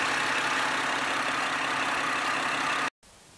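A Chevrolet Camaro's 3.6 liter V6 engine runs at a steady idle, heard up close as a continuous, even hum that cuts off abruptly at the end.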